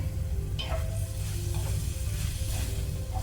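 Large red-skinned Bengali potato pieces fry in a hot pan with a steady, loud sizzle, broken by a few brief stirring scrapes, with no voices.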